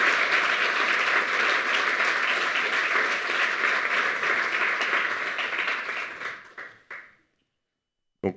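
Thanks to the technical crew come as a dense, steady round of applause from a conference audience. The clapping lasts about six seconds, then tapers off into silence, with a brief noise at the very end.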